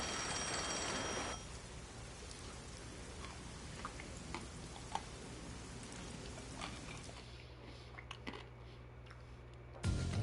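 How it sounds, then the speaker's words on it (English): A telephone ringing in the detective game Rain Code, with a brief trilling ring at the start over a steady bed of falling rain and scattered droplet taps that continue throughout. "Oh, the phone. It's a call from the WDO."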